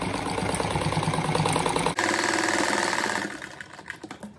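A sewing machine stitches fabric for a cat-shaped door stop, running loud, steady and close with fast rhythmic whirring, then slows and stops near the end.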